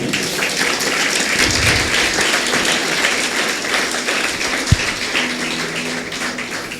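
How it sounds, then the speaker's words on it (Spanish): Applause fills a church as the congregation claps steadily, a dense, continuous crowd sound with no spoken words, close and loud for several seconds. "Fuerte aplauso a Dios"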